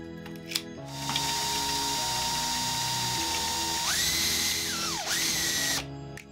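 Power drill boring a hole into an IKEA LACK shelf to fit small dowel cylinders, a close, loud, steady whine that shifts pitch and strains upward as the bit bites, with brief stops and restarts.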